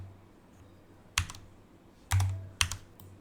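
Three separate heavy key strikes on a computer keyboard while writing code, each a sharp close clack spaced about a second apart, over quiet room hum with no speech.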